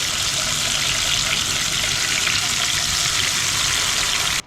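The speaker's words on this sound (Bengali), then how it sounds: "ফার্স্ট স্টেক দিয়ে দিচ্ছি এখন দুইটা দুইটা করে আগে ভেজে নিব" Spiced steaks fry two at a time in a pan over charcoal, giving a loud, steady sizzle and hiss that runs unbroken through the whole stretch before cutting off abruptly at the end.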